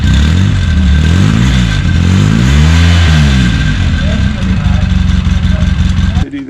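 A Polaris RZR engine revs hard under repeated throttle blips, its pitch sweeping up and down in loud rising and falling arcs, close and continuous, cutting off abruptly near the end.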